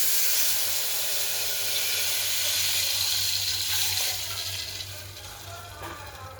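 Water is poured into a hot tempering of cumin, garlic-chilli paste and turmeric in a cooking pot, giving a loud rushing hiss and steam sizzle that gradually fades as the pan settles.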